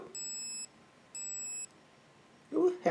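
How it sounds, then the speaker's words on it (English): Two short, clear electronic beeps from a Polaroid Cube+ action camera, evenly spaced and fairly quiet, followed by a brief rustle of handling. "it has a beep as well."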